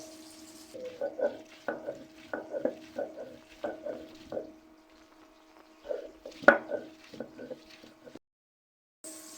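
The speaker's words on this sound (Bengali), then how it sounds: "এখানে আমি পেঁয়াজ আর ধনিয়া পাতা একসাথে বেটে নেব" Onion and coriander leaves ground together into a paste by hand, heard as close rhythmic back-and-forth scraping strokes that pause midway, resume with a sharp knock, then stop.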